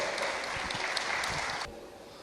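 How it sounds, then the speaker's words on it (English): An audience at a Mother's Day tribute claps for Dr. Jane Lopez, a dense round of applause that holds steady, then abruptly drops away to quiet room tone. "Please give her a round of applause."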